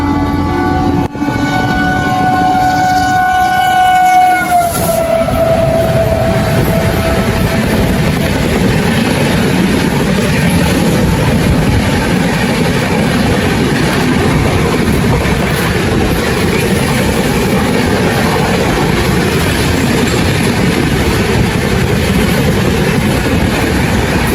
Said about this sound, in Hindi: तेज रफ्तार में एपी एक्सप्रेस हमें ओवरटेक करने आ रही है